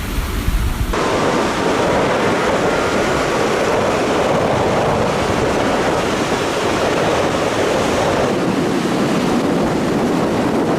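Loud, steady roar of ocean waves and surf, a continuous wash of rushing water with no voices.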